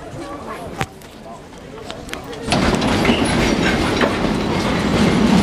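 A train rolls along the rails nearby, a steady loud rumble with clattering wheel noise that swells midway, while people talk over it outdoors.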